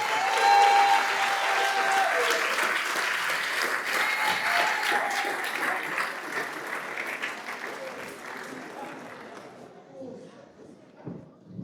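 A crowd at a civic gathering gives a long round of hand clapping for the council members, loud and full at first, then thinning out and fading toward the end, with scattered voices underneath.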